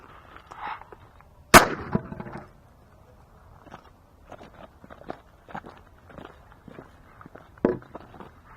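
A shotgun fires buckshot at a tabletop, one sharp loud blast early on, followed by scattered footsteps and light handling noises around the target.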